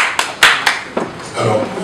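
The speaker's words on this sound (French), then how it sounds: "Applaudissez pour lui" A small audience gives a few sharp, separate claps that trail off into a brief, looser spatter, with a voice faintly underneath.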